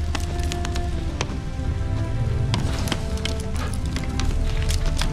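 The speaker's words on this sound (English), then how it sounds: "No use doing any work in this rain." Steady rain falls in The Witcher 3, a constant dense patter with scattered sharper drops striking surfaces, close and continuous with no talk over it.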